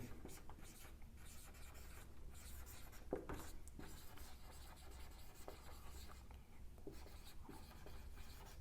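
Marker or chalk writing on a board during a chemistry lecture on conjugated dienes, with steady scratchy strokes and short pauses between them, close and fairly quiet, with no talking.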